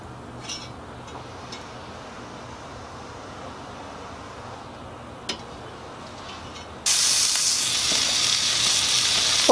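Rib eye cap steak searing on a griddle over a Weber grill fire, a steady close sizzle that jumps to a louder, brighter hiss partway through as the meat settles onto the hot surface.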